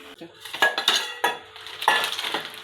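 Dishes, pots and cutlery clatter and clink at close range as a home cook plates a festival meal in a kitchen, with repeated clusters of knocks and scrapes and no talk.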